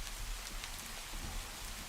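Rain falling in the video game Minecraft, a soft steady hiss of drops on surfaces, faint and continuous with no voices.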